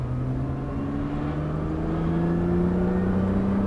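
A Nissan GT-R engine drones steadily on a race circuit, its pitch climbing slowly as it accelerates hard, loud and continuous with no voices.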